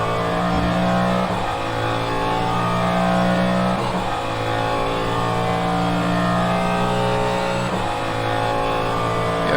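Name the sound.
Cadillac DPi-V.R race car engine revving in racing sim video game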